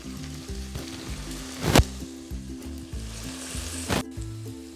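Okra with turmeric frying and browning in a pan gives a continuous close sizzle, broken by two sharp clattering stirs. A low droning tune runs underneath.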